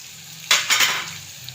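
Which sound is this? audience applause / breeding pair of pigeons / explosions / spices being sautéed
spices being sautéed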